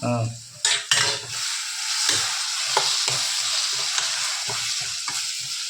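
Bajji frying in hot oil, a dense steady sizzle with a few sharp clinks of utensils against the pan early on, close and clear with no talking.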